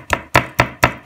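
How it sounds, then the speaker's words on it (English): Ginger is pounded for masala chai, likely in a mortar, giving five sharp, close thuds in quick, even succession, each with a short ringing tail. "You're going to mash it up completely."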